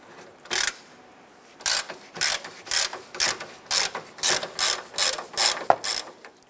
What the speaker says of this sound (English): I'm going to go ahead and use our ratchet.